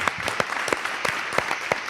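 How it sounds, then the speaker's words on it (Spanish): Sparse hand clapping from a small group at a Spanish interview event, distinct individual claps in a loose, uneven rhythm under a faint room murmur. "aplauso para él"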